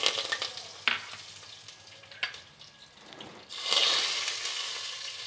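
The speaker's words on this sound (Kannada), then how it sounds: "ಬೇಳೆ ಮೊದಲು ಫ್ರೈ ಮಾಡ್ಕೋಬೇಕು ಸ್ವಲ್ಪ ಹಸಿ ವಾಸನೆ ಹೋಗೋ ಥರ ಫ್ರೈ ಮಾಡ್ಕೋತಾ ಇದ್ದೀನಿ" Dal frying in a pan with cumin, Byadgi dry chillies and curry leaves, a soft steady sizzle broken by a few sharp clatters of stirring, then a louder burst of hiss near the end.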